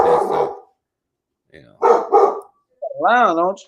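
A pet dog barks in short bursts between stretches of someone talking, then gives a longer, wavering howl-like yelp, loud and close in a room.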